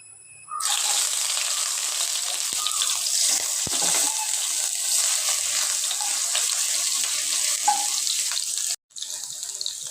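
Garlic and ginger hit hot coconut oil in a pan for a mushroom gravy, setting off a loud, steady sizzle that runs almost unbroken, with a brief drop near the end.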